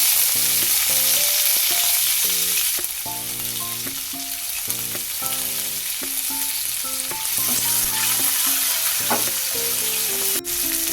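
Curry leaves and dried red chillies sizzling in hot coconut oil with popped mustard seeds, for a Kerala curry naranga curry: a loud, continuous frying hiss throughout, with a light melodic tune playing underneath.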